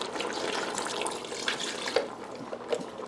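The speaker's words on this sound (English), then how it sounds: "I'm going to add about a cup of water." Water from a cup pours steadily into a cooking pot of pork menudo on medium heat, a continuous close splashing gush with a few small bubbling splashes, no voices.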